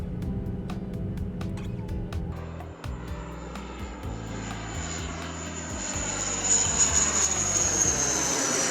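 An airplane in the zombie survival game Project Zomboid drones steadily with a propeller engine, and a thin high whine rises and grows louder toward the end.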